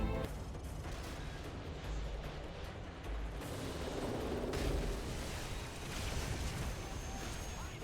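Missile explosion in Call of Duty Modern Warfare 3, a broad, rumbling blast amid continuous battle noise and distant gunfire, fairly faint overall.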